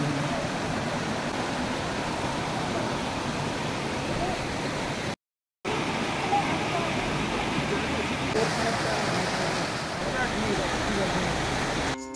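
A waterfall near a hillside path in Darjeeling, a dense steady rushing roar of falling water, loud and unbroken apart from a brief dropout, with no talk.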